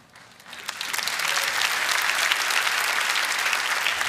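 A TEDx audience breaks into applause that swells within the first second into dense, steady clapping, filling the room loudly until the end.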